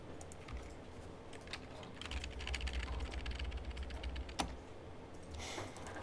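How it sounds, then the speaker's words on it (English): Fairly faint typing on a computer keyboard, scattered key clicks over a steady low room hum, with no voices. "You guys ever try typing like a really big number here?"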